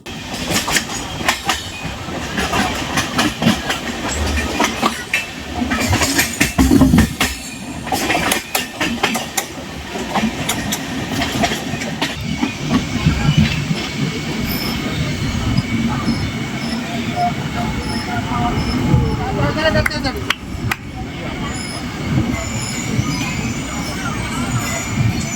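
Coromandel Superfast Express rolling along the tracks, with rumbling wheels, clickety-clack joints and brief squeals, heard close from on board under intermittent conversation.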